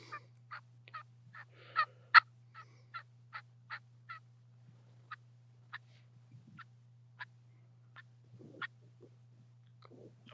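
A turkey call imitates a hen turkey, giving a string of sharp, evenly spaced yelps followed by scattered single clucks, close and clear against a quiet background with a faint steady hum.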